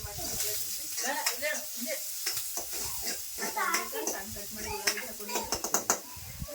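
Chopped onions frying in a pan until golden, a steady sizzle broken by frequent scraping and clinking of a spoon stirring against the metal, close up.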